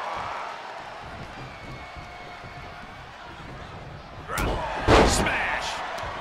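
A wrestling slam lands in the WWE 2K22 video game at an AEW arena tag match, a couple of heavy thuds near the end over steady crowd noise and commentary.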